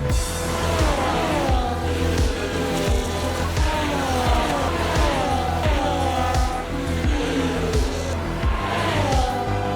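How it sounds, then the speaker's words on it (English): A Formula 1 race car in a racing video game screams along on the final lap, engine whining up through repeated gear changes with sharp upshifts and downshifts in a steady rhythm, loud and close throughout. "Nico Hulkenberg leading the race onto the main straight now"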